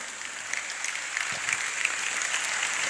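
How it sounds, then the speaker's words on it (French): A conference audience applauds to welcome a speaker, steady dense clapping from a sizable crowd, moderately loud and sustained throughout with no speech over it. "merci de l'accueillir par vos applaudissements."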